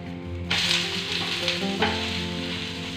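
A cassava adai fries in sesame oil on a hot pan and is flipped over; a loud, close sizzle swells sharply at the turn, with a couple of soft spatula scrapes and a steady crackle after.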